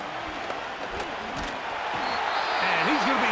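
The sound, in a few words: stadium crowd cheering in Madden NFL video game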